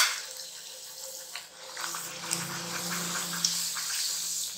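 Bathua puri dough drops into hot frying oil and sets off a steady sizzling hiss that swells and holds at moderate volume, with faint crackles.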